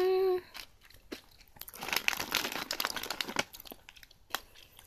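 Crisp crunching and crinkling as mini Bakauke wasabi pea rice crackers are chewed close to the mic, with irregular bursts of crackly bites and package rustle; a brief sung or voiced tone opens the moment.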